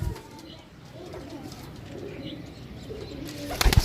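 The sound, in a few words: pigeons cooing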